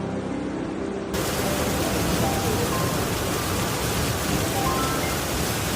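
Heavy rain and floodwater in Japan make a steady, dense, loud roar that fills the whole stretch without a break.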